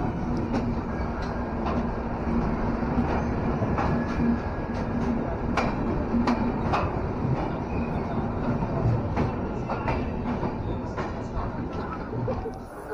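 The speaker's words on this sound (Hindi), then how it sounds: "पटना से निकल रही है न्यू दिल्ली हावड़ा पूर्वा एक्सप्रेस" Purva Express passenger train pulling out of Patna Junction, a steady rumbling roll with rail clatter and occasional squeals and clicks, continuous and fairly loud throughout.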